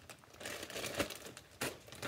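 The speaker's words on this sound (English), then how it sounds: "comes packed in this resealable plastic bag" A resealable plastic bag holding a tactical pack is handled close up, giving soft continuous crinkling with a few sharper rustles, quiet and without talking.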